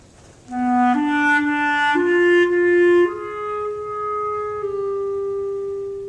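A solo clarinet plays an All-State etude's transition bar, several sustained legato notes stepping upward and slowing down, then a long held final note under a fermata. The tone is clear and steady at moderate loudness.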